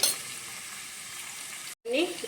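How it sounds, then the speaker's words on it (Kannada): Cumin seeds sizzling in hot oil and ghee, a steady close frying hiss that cuts out for a moment and then resumes with a brief clink. "ಇವಾಗ ನೋಡಿ, ಎಣ್ಣೆ ಬಿಸಿ ಆಯಿತು. ಅದಕ್ಕೆ 1 ಟೀ ಸ್ಪೂನಷ್ಟು ಜೀರಿಗೆ ಹಾಕ್ತಾಯಿದ್ದೀನಿ."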